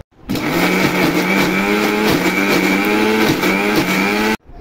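A kitchen mixer grinder whirs loudly and steadily as it blends tomato chutney paste with garlic, a constant motor drone that starts abruptly and cuts off sharply at the end.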